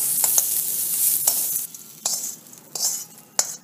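Asafoetida drops into hot tempering oil after the stove is switched off, giving a bright crackling sizzle in short bursts as a spoon stirs and clinks against the pan.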